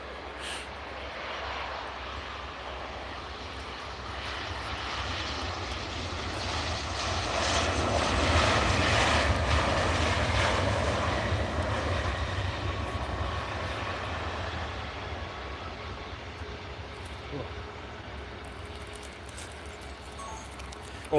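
A jet airplane roars overhead near Edinburgh Airport, its broad rumble swelling to a peak midway and then slowly fading as it passes.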